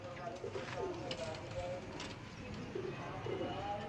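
Breeder pigeons in a loft giving low, throaty coos in a few soft rolling phrases, heard under a steady background hum and mixed with people talking nearby.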